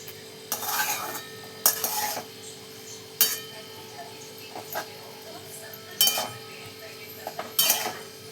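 A spoon stirs and mixes methi bhaji with crushed peanuts in a pan, giving several separate scraping, clinking strokes at irregular intervals over a faint low hum, close and fairly quiet.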